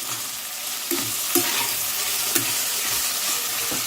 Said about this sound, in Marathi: आणि आता आपण टाकून घेऊ कोथिंबीर कोथिंबीर पण फ्राय करून घ्यायची याच्यासोबत एक मिनिट